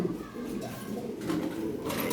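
Several European Lahori pigeons coo softly and continuously nearby on a farm, a low burbling murmur with no other sounds standing out.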